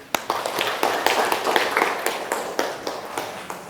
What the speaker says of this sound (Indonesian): marilah kita tepuk semangat untuk diri kita sendiri